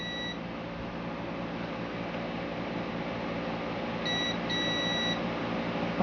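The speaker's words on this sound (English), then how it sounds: "It should beep." A multimeter giving its continuity-test beep while probing a CP System III arcade board, short steady tones near the end over a constant electrical hiss.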